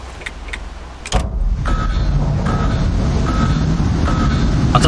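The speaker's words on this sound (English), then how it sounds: "No, it's just alarm." An alarm in the video game Dysmantle sounds as a steady droning tone after a sharp onset, continuing loudly under faint ambient noise with no talk.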